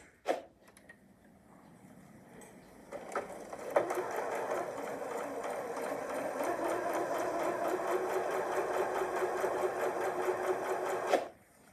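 Janome sewing machine stitching fabric pieces with quarter inch seams, starting with a few clicks, then a steady close rapid hum and needle patter for about eight seconds before stopping.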